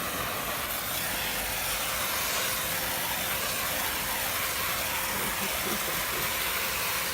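A professional steam vacuum cleaner giving off a steady, loud, broad hiss of steam that runs unbroken throughout, with a faint machine hum underneath.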